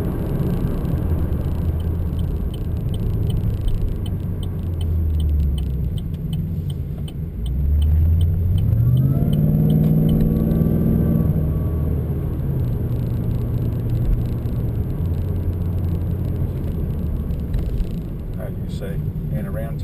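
A supercharged Holden VF Calais engine revs up and pulls hard, its pitch climbing and holding through a long acceleration, with a steady road rumble and some talk underneath.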